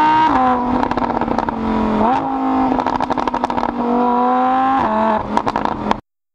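Lamborghini V10 engine, as in the Gallardo and Huracán, revving hard and loud in repeated bursts, with pitch climbing and dropping between rises, close and continuous with no talk.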